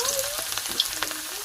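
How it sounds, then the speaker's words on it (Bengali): Potato pieces frying in hot oil for a meat curry, a steady sizzle with a few soft stirring scrapes, close and fairly quiet, with no talk. "মাংসর আলুগুলো ভেজে নেব"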